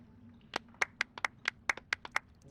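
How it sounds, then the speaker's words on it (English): A dozen or so crisp hand claps in a video game, in a quick, uneven rhythm, sparse and close, like a small group applauding politely over quiet background hum. "A round of applause, please."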